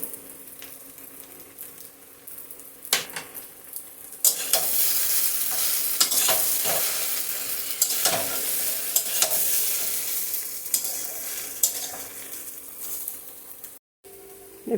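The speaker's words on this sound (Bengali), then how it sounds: "এখানে পনির, কাবলি চানা, আলু সবগুলি দিয়ে দিলাম। তার মধ্যে আমার ভাজা মশলাটা একটু দিয়ে দিচ্ছি" Paneer, chickpeas and potatoes being stirred with fried spices in a pan for a vegetarian curry, giving a steady close sizzle with repeated scraping strokes and clinks of the spoon throughout, no talking.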